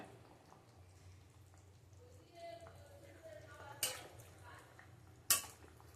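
A pot lid clanks down twice, sharp and close, over a cooking pot of hilsa fish curry with raw tamarind, eggplant and radish, with faint kitchen rustle and simmering between the knocks.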